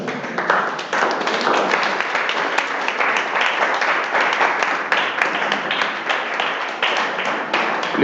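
Sustained applause from a church congregation, dense and steady clapping filling the room at close range for several seconds without a break.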